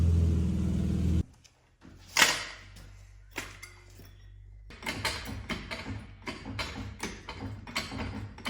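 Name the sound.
BMW E30 car engine with blowing exhaust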